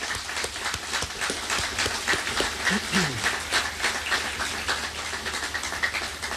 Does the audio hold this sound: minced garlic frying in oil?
no